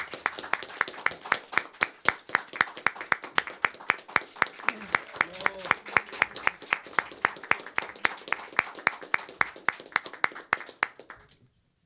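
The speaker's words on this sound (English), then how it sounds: "So let's welcome him with a big round of applause." An audience applauds as moderator Gordon Chang is welcomed at a conference on election fraud in the South Korean presidential election, with steady rhythmic clapping that builds and then tapers off near the end.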